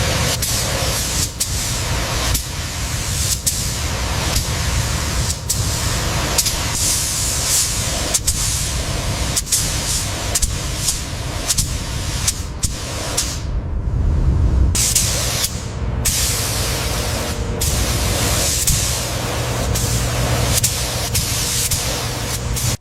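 Spray paint hisses steadily as a green coat is applied to a locomotive cab exterior, a continuous close airy spray with brief breaks in the flow.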